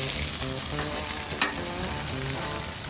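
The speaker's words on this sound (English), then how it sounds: "so I'm gonna put the first one there, sizzling away" Shrimp sizzling on a hot charcoal barbecue grill, a steady close crackling fry that hisses continuously without pause, with a brief sharper pop partway through and no talking.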